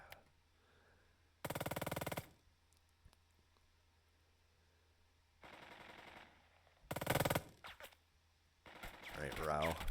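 Machine gun fire from the video game Burden of Command comes in several short rattling bursts separated by quiet gaps, with a final burst of louder crackling effects at the end.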